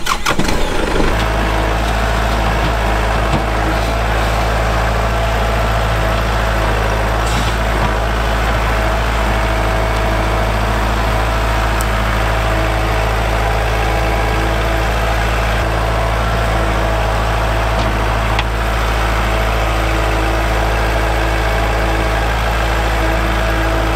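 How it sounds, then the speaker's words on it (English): A loud tractor engine runs steadily at a constant idle-like rumble for the whole stretch, close to the listener, with faint clanks over it, as its bucket digs a trench. "I'm going to take the bucket on my tractor and dig kind of a trench in the ground"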